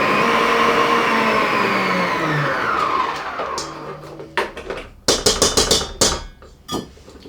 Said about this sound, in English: we're going to take our 200 mils of double cream and we're going to pop it into our mixer